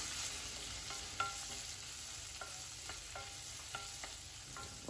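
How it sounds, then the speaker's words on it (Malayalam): Onions sauté with ginger, green chili and curry leaves for a squid curry, a soft steady sizzle broken by occasional light scrapes and stirring clinks of a spoon in the pan, quiet and close. "എന്നിട്ട് ഉള്ളി നന്നായിട്ട് വഴറ്റിയെടുക്കാം"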